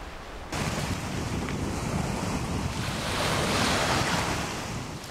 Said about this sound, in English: float among the gentle waves